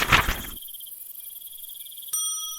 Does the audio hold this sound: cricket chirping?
yes